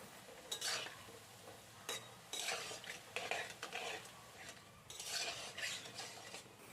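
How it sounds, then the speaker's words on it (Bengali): Gulab jamun balls fry over a medium-high flame while a utensil stirs them repeatedly in the pan, making quiet bursts of scraping and gentle sizzling separated by short pauses. "তো আমি সমানেই এটাকে নাড়াচাড়া করে নিচ্ছি"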